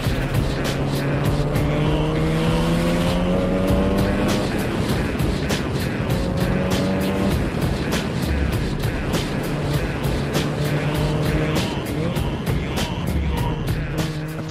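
Cars race hard up a steep mountain touge road lined with cliffs, engines roaring loud and close with rising revs, gear changes and repeated pass-bys throughout.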